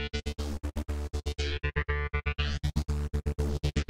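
Synth tone run through Kilohearts Multipass with a trance gate and an end filter with modulated resonance, chopped into fast rhythmic on-off pulses while the bright top end sweeps up and down, loud and alone.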